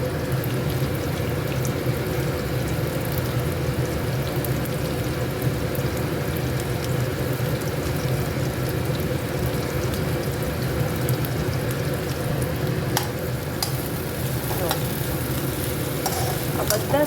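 Capsicum and broccoli sauté in a pan for vegetable rice, giving a loud, continuous sizzle with constant stirring and faint scraping, steady and close the whole way through.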